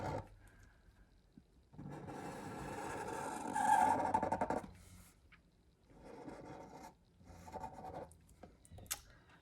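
A marker traces a circle on paper for a rabbit illustration, giving a soft continuous scratchy rubbing that swells and fades in several strokes with quiet gaps between, close and fairly faint.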